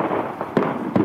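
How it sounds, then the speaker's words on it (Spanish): Fireworks and gunfire during a street protest, two sharp cracking bangs a short way off over a rumbling background of crowd and traffic noise. "Hay cohetes y tiros."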